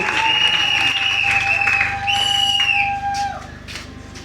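A wedding congregation at a church ceremony applauds and cheers, with a dense crowd clapping, shrill whistles carrying over the top and the noise gradually thinning out.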